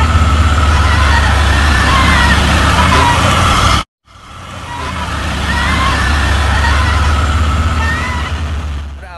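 A PT Pelangi bus labours up the steep Bukit Kodok climb in North Sumatra, its troubled engine droning loud and steady with heavy low rumble, broken by a brief cutout midway before the strain resumes.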